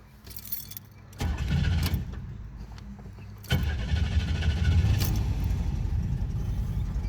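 An old Jeep's engine cranks and catches after an ignition interlock breath test, then settles into a steady, close idle. Keys jangle and knock in the moments before it starts.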